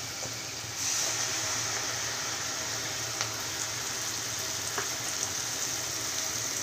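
Ground masala paste frying in a pan for rasam, a dense steady sizzle that jumps up as it hits the oil, then holds close and even with a couple of faint clicks.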